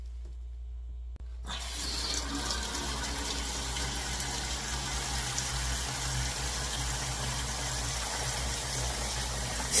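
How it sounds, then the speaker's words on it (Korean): Perilla leaves are rinsed one by one under a running kitchen tap, the water switching on after a second of near silence and then pouring steadily and loudly with a low hum underneath. "이렇게 하나하나 이렇게 들치면서 흐르는 물에 씻을 거예요"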